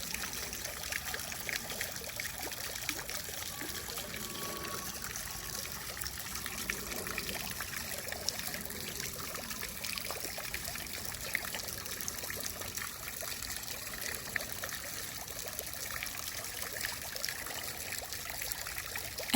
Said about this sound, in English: The way that they put that water feature in the center that just soothes you as you walk close to it.